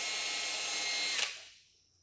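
A power drill whines steadily through a thick aluminum housing, loud and close, then cuts out and trails off into quiet near the end.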